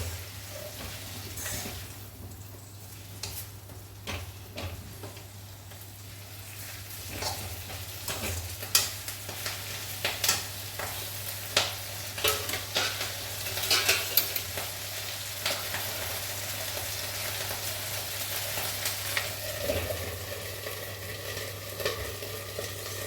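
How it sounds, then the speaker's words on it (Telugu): Fenugreek leaves frying in a few teaspoons of oil, a low continuous sizzle broken by repeated sharp stirring scrapes and clinks of the spatula against the pan, with a steady hum beneath. "ఇప్పుడు ఈ మెంతి కూర కూడా మనకు వేగిపోయిందండి మంచిగా"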